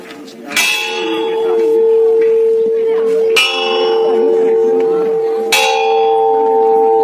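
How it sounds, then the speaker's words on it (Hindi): A large bell at the Guru Shikar summit, Mount Abu, strikes three times at slow, even intervals, each loud clang ringing on with a long humming decay. "घंटी बजा।"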